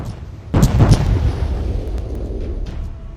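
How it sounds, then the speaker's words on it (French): Secondary mini cannons fire in the Roblox Warships game: a sudden loud boom with a short burst of blasts, then a rumbling, fading tail. "Si vous voulez tirer les secondaires, donc les mini canons, appuyez sur R hein"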